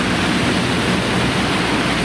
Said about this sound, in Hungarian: Itt zúg alá, a fő sodrásban.